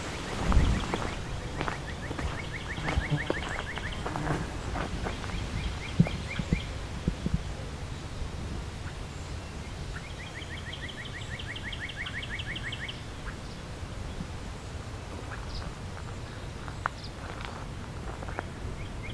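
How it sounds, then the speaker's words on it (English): A northern cardinal sings repeated fast whistled phrases in a summer swamp, with short soft chup calls from a gray catbird nearby; the song phrases come and go over quiet outdoor ambience and occasional footstep rustles. "there's a northern cardinal singing over there. There's a little chup chup sounds here of the gray catbird"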